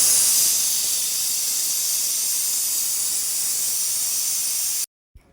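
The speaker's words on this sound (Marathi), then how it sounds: "आता मी कुकरचं झाकण लावून कुकर ठेवलेलं आहे" A pressure cooker on the stove releases a loud, continuous steam hiss that stays steady for several seconds, then cuts off abruptly into silence, followed by a faint brief knock.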